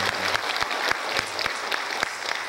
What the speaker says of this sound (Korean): 우리 할렐루야 찬양대 우리 뜨거운 박수로 한번 격려해 주시면 좋겠습니다.